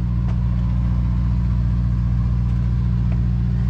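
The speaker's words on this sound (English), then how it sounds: "You can hear that generator exhaust." A generator on a Prevost American Coach motorhome runs with a loud, steady, droning exhaust hum that never changes in pitch, heard close up with no talking.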